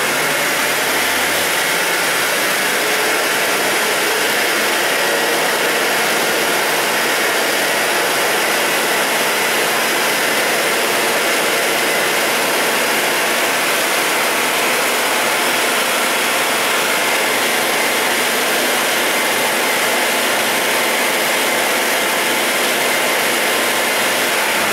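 A Jeep 4.0 engine runs with the throttle propped slightly open, giving a loud, steady, unvarying roar that persists close up for the whole stretch with no voices.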